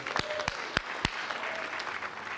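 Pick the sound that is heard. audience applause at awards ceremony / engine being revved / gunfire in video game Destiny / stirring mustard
audience applause at awards ceremony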